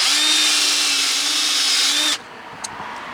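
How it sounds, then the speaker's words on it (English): A power drill cleaning rust off car brakes whirs loudly and steadily for about two seconds, then cuts off abruptly, leaving a quiet room with a small tap. "Change the direction on the drill."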